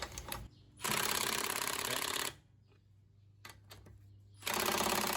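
A Milwaukee 12V Fuel 1/4-inch impact driver on its lowest setting runs a bolt down while replacing a rear shock, giving two loud sustained bursts of rapid hammering separated by a quieter pause with a few clicks.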